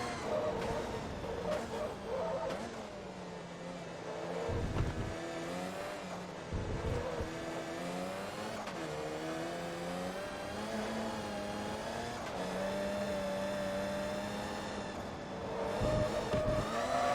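A race car in Forza Motorsport 2 sliding around at the end of a Class A World Trophy race while its engine revs, climbs and dips and holds a steady near roar, with short drops in pitch between the revs and no voices.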